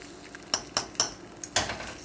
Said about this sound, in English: Go ahead and mix it around.